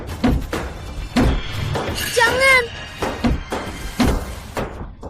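Repeated hard bangs against bulletproof glass that holds without breaking, loud thuds at a steady rhythm with a shout and other voices over them.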